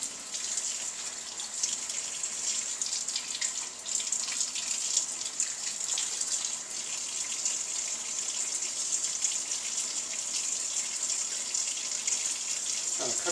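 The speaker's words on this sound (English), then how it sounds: "Get us a little stream of water going." Thin stream of tap water running steadily into a sink as the setup for an egg experiment, a continuous close hiss with no talk over it.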